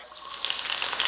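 Garlic sautés in hot oil in a pan with a steady, bright sizzle that swells slightly over about a second, close up and with no voices.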